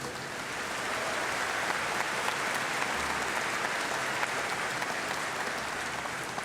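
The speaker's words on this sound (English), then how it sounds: "So if you'll join me in giving a round of applause for those two ladies." A university commencement crowd applauds two honorees, a dense, even wash of clapping from a large audience that holds steady throughout without voices on top.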